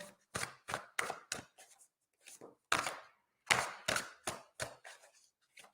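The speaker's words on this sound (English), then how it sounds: "I'm just giving these a really big shuffle." A deck of tarot cards is shuffled in quick, distinct riffling bursts, with about a dozen sharp snaps and short pauses between them, close and crisp against a quiet room.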